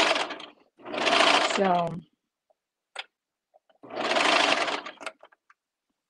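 A serger sewing machine stitching flare pants runs in two close, loud bursts of rapid whirring separated by a quiet gap with faint clicks, while a voice speaks briefly.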